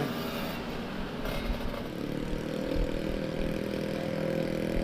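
A Yamaha Mio scooter engine hums steadily at a moderate distance, its level rising slightly toward the end as it draws nearer, with no talk over it.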